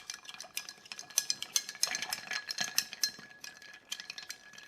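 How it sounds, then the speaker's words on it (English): A Bijou cocktail stirred with ice in a mixing glass, a steady, close, continuous rattling clink of ice cubes swirling against glass for several seconds. "we're going to stir this to chill."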